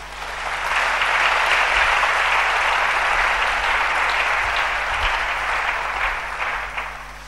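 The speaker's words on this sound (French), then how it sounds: "Acclamons le nom de Jésus" A church congregation applauding together, a dense, steady burst of clapping that swells quickly and holds for several seconds before easing slightly, with no voices over it.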